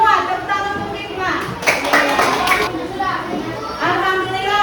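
Children in a classroom break into a short burst of hand clapping for a classmate, lively and close, mixed with children's chatter and voices around it.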